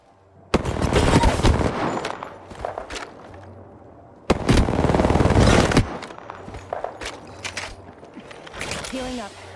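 Bursts of automatic gunfire in the battle royale game Apex Legends, two loud sustained volleys of rapid shots with quieter scattered fire and game effects between them.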